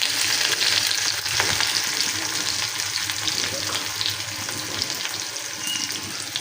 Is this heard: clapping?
no